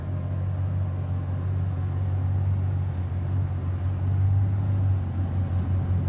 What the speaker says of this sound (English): He's pulling in his truck.